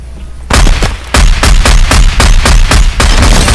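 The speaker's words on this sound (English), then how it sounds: "more sniper shots. Love the sniper." Rapid, very loud gunshots in Fortnite from a sniper rifle, about a dozen sharp booming reports in quick succession right up close, with no talk.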